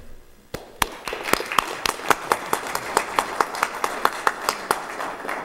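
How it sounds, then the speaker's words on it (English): Scattered applause from a small audience at a board of education meeting: a handful of distinct sharp claps in an uneven rhythm, fairly close and moderately loud, lasting about five seconds. "We want to applaud you for that."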